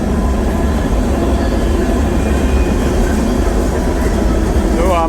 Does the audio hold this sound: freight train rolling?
yes